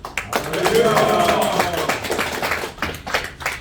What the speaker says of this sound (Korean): 큰 박수로 환영하시겠습니다